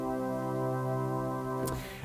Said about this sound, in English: You have string sounds